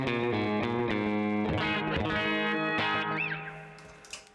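An electric guitar through a Modulus modulated delay plays sustained, slightly driven chords and notes with a short slapback echo repeating each attack, ringing out toward the end.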